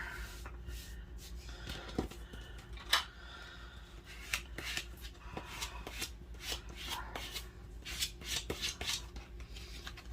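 Paper being folded back over and rubbed flat while making a junk journal cover: soft, close rasping and scuffing strokes with a few sharper creases, steady and quiet, with no speech.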